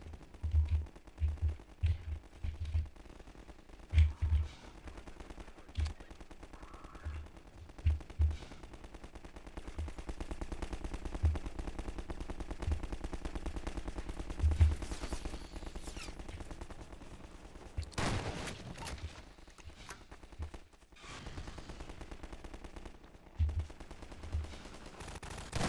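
Repeated gunfire bursts from a pistol in the video game Half-Life 2, sharp shots in short rhythmic clusters with a few louder reports, set against continuous game ambience and low rumble.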